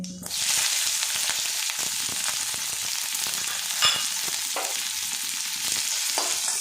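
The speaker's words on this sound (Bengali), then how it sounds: "হালকা করে এগুলো আমি ভাজা ভাজা করে নেব।" Chopped onion and green chili frying in oil with cumin, a steady close sizzle with occasional stirring clinks and scrapes, no talking.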